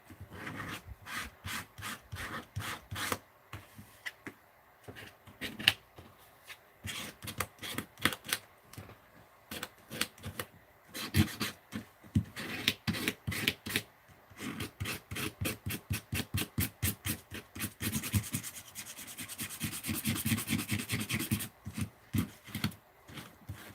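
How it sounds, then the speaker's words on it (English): Quick rhythmic scraping strokes, loud and close, coming in bursts of rapid back-and-forth rasps with short pauses, speeding into a dense run near the end. "Let's do a little scrapey scrape here."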